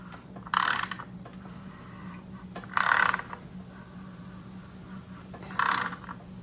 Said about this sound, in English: if we turn the degree wheel the other way, it's going to stop at 38 again